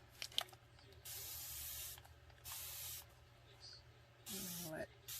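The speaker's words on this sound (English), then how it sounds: "now we're going to spray with water again" Several short bursts from a spray bottle misting water onto a Dollar Tree craft bottle being painted in brown and gray, three distinct hisses of about a second each, close and clear, with faint handling noises between.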